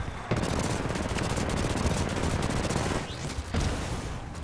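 Sustained automatic gunfire in the video game Titanfall 2, a dense loud rattle of rapid shots filling the whole stretch with brief breaks, mixed with game effects.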